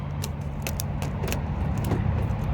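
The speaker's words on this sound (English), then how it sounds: "Here is the physical key. You can just put that in." A physical key for a 2020/2021 Honda CR-V slides into the door lock, giving a few short metallic clicks and jangles over a steady low hum, close by.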